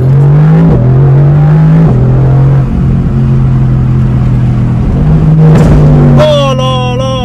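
Loud, close engine drone of a 2020 Mercedes-AMG GT R with 577 hp as it downshifts, the pitch stepping up and down between gears and rising into a rev near the end, with sharp exhaust crackles between shifts.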